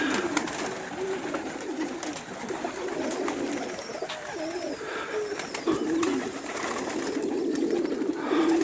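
Pigeons coo repeatedly in low, throaty phrases against a steady outdoor background, with a few birds calling close by throughout.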